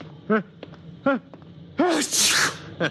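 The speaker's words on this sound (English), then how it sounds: "My eyes just water, my nose runs, and I sneeze" A few short vocal bursts lead into a loud, breathy sneeze up close, followed by a small trailing sound.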